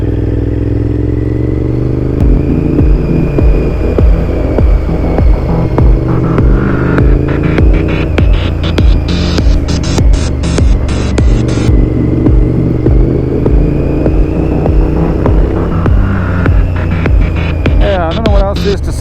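Carbureted 2008 Honda VTR 1000 V-twin engine throbs loudly and steadily throughout on a test ride, with a deep pulsing hum and rising and falling revs.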